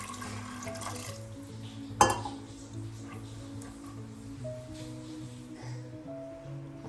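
Water poured into a pot of soaked red cow peas, a quiet splashing trickle with a sharp clink partway through, faint and close, with a low background hum.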